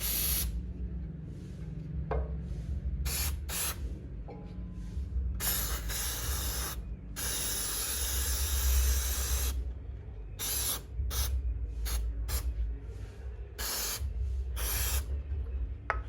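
A can of chain clearance spray hisses onto a bike chain in repeated bursts of differing length, loud and close, with short silent gaps between sprays and some low mechanical rumble beneath.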